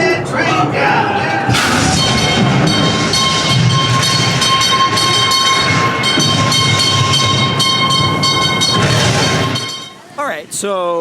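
Mine train ride at Knott's Berry Farm, a loud rolling rumble with clattering track noise and a sustained horn or whistle tone over much of the ride, crowd noise throughout and a brief voice near the end.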